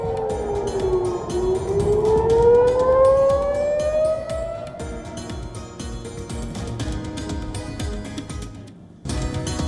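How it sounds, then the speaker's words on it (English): Civil defense air raid siren wailing in Israel during a missile attack, one loud rising and falling tone over continuous background rumble and noise, ending with a brief drop and resumption. "Sirens booms throughout Israel as Iran fires dozens of ballistic missiles"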